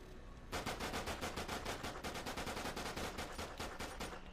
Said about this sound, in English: Yes, dual-wield pistols.